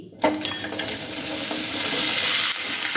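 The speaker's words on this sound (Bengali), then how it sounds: "লাউটা দিয়ে দিলাম এবার লাউটাকে একটু নাড়াচাড়া করে নিচ্ছি" Loud, continuous sizzling as bottle gourd is stirred and fried in a hot pan, starting abruptly after a brief quiet moment.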